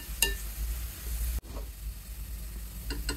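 Onions frying into beresta in hot oil in a pan give a steady, close sizzle, broken by a brief clatter and a short pause before the crackling hiss resumes, with a few light utensil taps.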